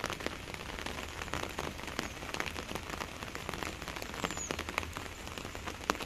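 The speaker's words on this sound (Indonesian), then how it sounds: "View-nya sangat hujan hari ini." Heavy rain pours steadily on the border between Central and East Java, Indonesia, a dense, continuous hiss of drops striking surfaces, close and loud throughout with no voices.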